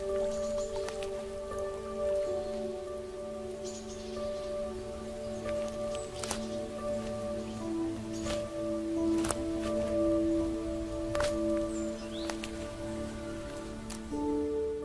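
Steady rain falls on a grey day at an outdoor nature photography festival, a soft continuous patter with scattered louder drops and drips against a constant background, with no voices.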